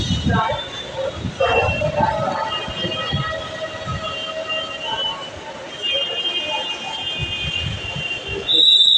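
Railway station ambience with a train rumbling nearby and faint tonal squeals, with people talking intermittently over it.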